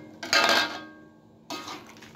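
Tongseng stirred in a metal cooking pot, two distinct clanks and scrapes of a utensil against the pot, the first louder and longer, the second shorter, with no talking.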